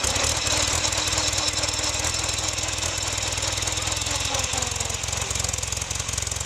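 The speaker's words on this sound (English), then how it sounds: "I will close the valves and the engine will start." A vintage Pierce Arrow car engine running after starting, a steady loud mechanical chugging with rapid regular firing pulses and a broad hiss, continuous and close with no talking.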